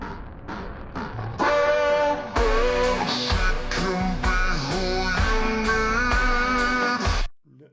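Full AI-generated song made with Suno for an advertisement, remastered: a dense produced track with steady beat, layered harmonies and sustained tones, loud and continuous for several seconds before cutting off abruptly near the end.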